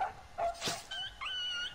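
A dog whimpers and yips in a Michael Myers Halloween video game, several short high-pitched whines in close succession, fairly near and with nobody talking.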